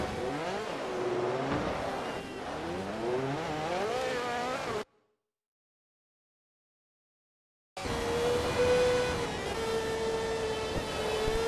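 Ferrari race cars in a Forza racing game roar loudly as their engines rev and shift through gears, then cut to about three seconds of silence before resuming.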